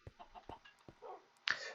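Short, soft clucks from a chicken in Minecraft, a few quick separate clucks followed by a brighter squawk near the end, with no talking.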